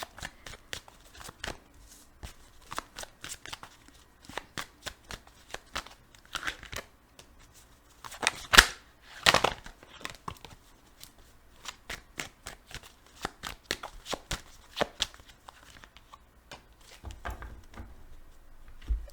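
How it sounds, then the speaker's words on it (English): Tarot cards are shuffled and laid out on a table: close, crisp riffles and soft slaps come in bursts with short pauses, and there is no talk. "I'm just gonna lay out these cards here because I better do that."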